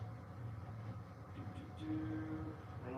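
O-gauge model train running on a layout, a faint low steady rumble of the motor and wheels with a brief thin tonal whine partway through, quiet and continuous.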